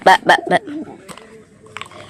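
Pigeons coo close by while feeding, a few loud bursts at first, then softer, low warbling coos trailing off.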